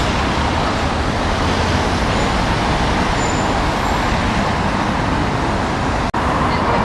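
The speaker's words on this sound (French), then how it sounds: "La circulation dans Paris est incessante, bien entendu" Dense city road traffic on a Paris boulevard in the 16th arrondissement near Porte Dauphine: a loud, continuous roar of cars, buses and trucks passing close by, with no break.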